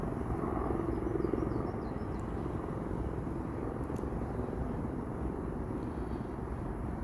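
A DJI Mini 4 Pro drone flies during a 2024 solar eclipse, its steady broadband propeller whine and buzz droning continuously and fairly loud throughout, with no pauses or talk.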